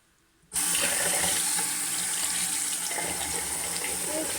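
A washcloth glove being washed under a running tap: water bursts on suddenly and then runs steadily as a loud, close, continuous gush into the sink, with slight shifts as the cloth moves through the stream.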